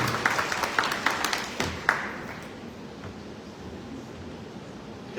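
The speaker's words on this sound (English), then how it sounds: "Please welcome him with a big round of applause" A membership meeting audience applauds, with brisk clapping that is strongest at the start and tapers off within about two and a half seconds into quiet room tone.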